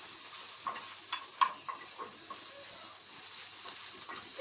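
Garlic frying in a pan, with a soft continuous sizzle, a few sharp pops and stirring clicks, a louder tap near the middle, and a steady hiss throughout.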